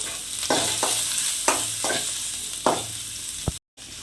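Garlic and onion fry in a pan with a steady sizzle, broken by several distinct stirring scrapes at regular intervals, then a brief silence near the end.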